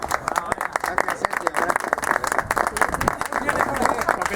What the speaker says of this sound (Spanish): Pues un aplauso, ¿no?